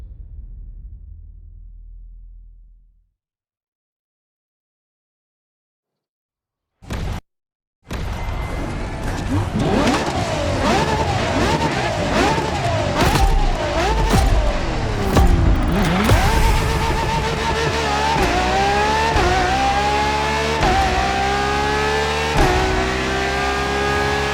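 Ferrari LaFerrari hybrid supercar in the racing game The Crew Motorfest, engine loudly revving and rising through gear changes in repeated sweeps after a brief idle and short silence, continuous and close.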